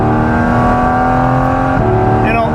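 A Porsche GT4 RS engine roars at sustained high RPM from inside the cabin, with a steady loud induction note that shifts pitch slightly at a gear change near the end.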